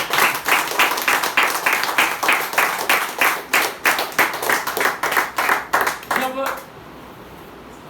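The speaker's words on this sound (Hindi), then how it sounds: "तो तालियों से बता दो मुझे।" An audience claps in unison at a business event, a rapid, even rhythm of about twenty loud synchronized claps that stops abruptly, followed by near silence.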